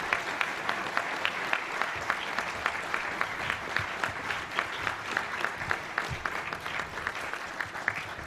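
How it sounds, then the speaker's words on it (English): An audience at a press club event gives a guest speaker a steady round of applause, dense and continuous throughout, with a crowd murmur beneath the clapping. "How about a round of applause for our guest speaker today?"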